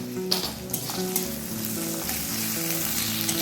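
Ginger paste and dried chilli paste sizzle in hot oil with pointal in a pan, a close steady frying hiss broken by a few sharp stirring knocks early on.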